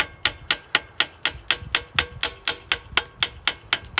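A hand hammer strikes a hot rivet while wolf jaw tongs are being made, a quick, even series of sharp metallic blows, about four per second, close and distinct.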